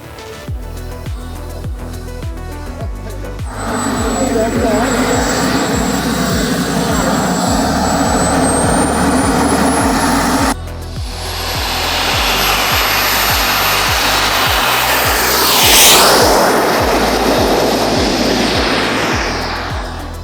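A radio-controlled model jet's small engine whines loudly and steadily on its first flight, its pitch climbing and holding high, then sweeping past with a brief rise in loudness.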